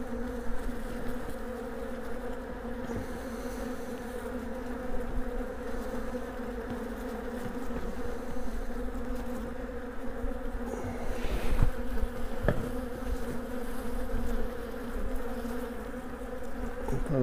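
Honeybees at a weak beehive on a mild February day, humming steadily and continuously with a close, even buzz and a few louder passes near the end.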